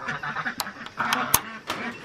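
Young and adult guinea fowl calling in an outdoor pen, a few short harsh squawks and honking cries scattered at close range, with some background voices.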